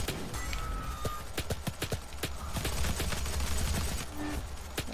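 Gunfire from a weapon in the video game Doom: a rapid string of sharp shots over a dense, steady wash of game noise, moderately loud and continuous throughout.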